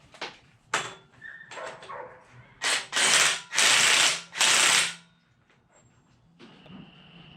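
A ratchet tightens the old pinion nut on a Dana 60 axle during a gear and locker install. Quick clicks come first, then several long, loud ratcheting bursts up close, followed by quiet.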